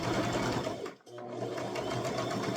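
Sewing machine back stitching while making a toddler crossbody purse: steady close mechanical needle chatter that briefly stops as it reverses, then resumes at the same pace.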